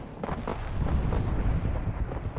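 A transport vehicle is destroyed in a Warhammer 30k strategy game, bursting into a heavy, rumbling explosion with a low booming roll that lingers briefly, heard alone without voices.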